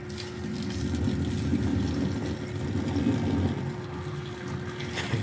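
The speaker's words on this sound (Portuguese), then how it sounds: "A água acabou de ferver. Vamos jogar ela lá." Freshly boiled water pours steadily into a sink drain packed with coarse salt, a continuous close gushing and splashing rush that runs unbroken for several seconds.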